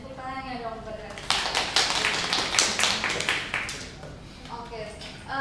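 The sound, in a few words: class clapping hands for Ranisa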